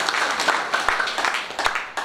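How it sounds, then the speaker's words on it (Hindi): A burst of crowd clapping for Ranjit Bande during a speech event in Khutauna, brief and fairly dense with individual claps popping through the mass. "एक बार रंजीत बंदे जी के लिए जोरदार तालियां"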